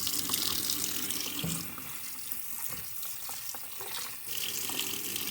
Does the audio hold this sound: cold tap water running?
yes